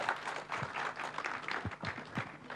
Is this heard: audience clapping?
yes